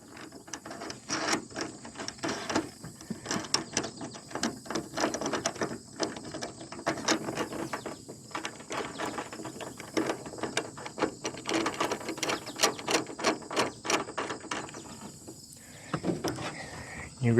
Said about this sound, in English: You grab a 14 millimeter, you just kind of tighten it up.